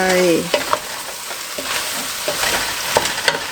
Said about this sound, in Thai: เอาเนื้อลง ผัดลงไป